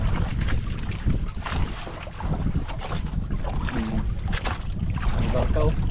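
A boat approaches on open sea water, its motor and hull noise rumbling under heavy wind buffeting the microphone, with people talking nearby.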